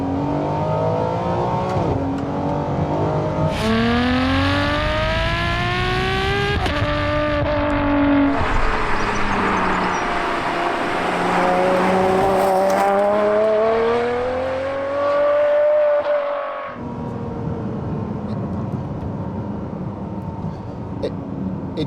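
A Ferrari 599 GTO engine revs hard and accelerates through several rising gear pulls, loud and close, with a sharp shrieking howl before it drops back to a lower drone.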